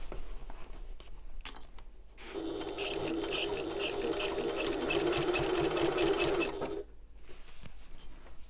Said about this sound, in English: manipulate your fabric out of the way so that you sew in exactly where you want to be sewing